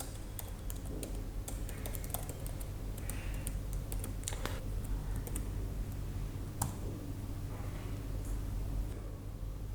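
Code being typed on a computer keyboard, with steady quick key clicks throughout, close and quiet, some strokes louder than others, with no talking.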